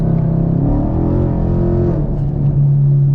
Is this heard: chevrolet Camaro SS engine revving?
yes